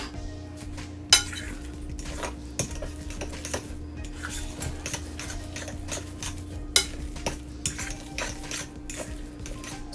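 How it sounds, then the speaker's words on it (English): A fork scrapes and clinks against a bowl while mashing potato into a dough for cheese pancakes, in steady irregular strokes with sharper taps now and then, over a constant low kitchen hum. "I'm going to use a fork."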